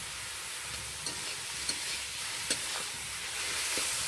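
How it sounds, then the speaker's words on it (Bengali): Spice paste with turmeric and ginger frying in a pan for a carrot and prawn dish, with a steady soft sizzle and a few light stirring scrapes and taps, close and alone. "মশলাটাকে ভালো করে কষিয়ে নিচ্ছি"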